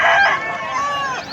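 A large white rooster at a poultry market in Pileru gives a loud, close, drawn-out crow mixed with clucking, filling the short moment on its own.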